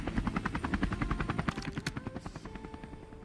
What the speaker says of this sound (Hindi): यहाँ से हेलीकॉप्टर लेके मैं बंदों को ढूंढने लग जाता हूँ